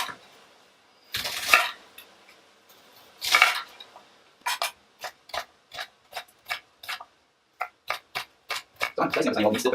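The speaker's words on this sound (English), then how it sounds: "So I'm dicing this onion, still cooking." A knife dices an onion on a cutting board, two heavier scraping strokes followed by a quick, regular run of sharp chops that speed up toward the end, close and clear with no speech.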